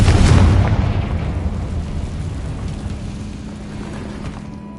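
A Confringo explosion spell goes off in Hogwarts Legacy with a loud, sudden boom that rolls into a long rumbling decay, fading steadily over several seconds.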